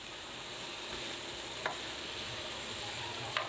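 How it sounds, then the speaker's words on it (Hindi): Vegetables seasoned with salt and black pepper stirred in a frying pan, soft sizzling under occasional light scrapes of a spoon, quiet and close with no talking. "अब इनको अच्छे से मिक्स कर लेंगे"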